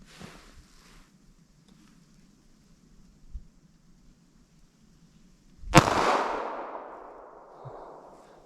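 A single sharp gunshot from a .380 ACP pocket pistol fired outdoors at a range, loud and close with a short echoing tail, preceded by faint quiet background.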